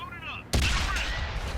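One heavy tank gun blast from World of Tanks bursts in suddenly and hits the side of a tank, followed by a rumbling tail, under a commentator's voice.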